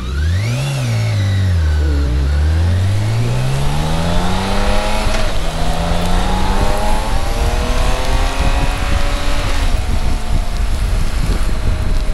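A BMW K1600 GTL motorcycle ridden in the rain: the engine revs climb and fall, then settle into a steady, close drone mixed with rushing wind noise.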